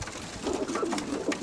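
Pigeons at a pigeon show in Veria, Greece, coo in low, soft, repeated throaty calls close by, set against a quiet background murmur, with no voices.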